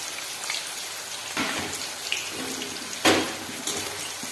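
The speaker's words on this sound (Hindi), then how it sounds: "अब इसे भी हम डाल देंगे फ्राई होने के लिए इस तरीके से।" Banana slices sizzling in hot oil as they fry into chips, a steady hissing crackle with a few louder bursts when more slices go in; no talking.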